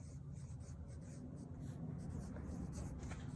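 A pen writing on paper makes quiet, close, continuous scratching strokes with no talk.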